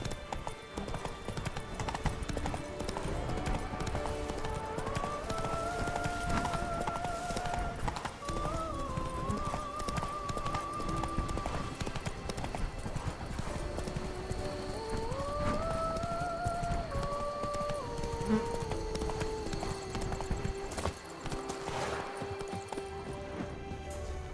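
The horse Roach gallops in The Witcher 3 with steady, rhythmic clip-clop hoofbeats throughout, set under a soft melodic music bed and quiet ambience.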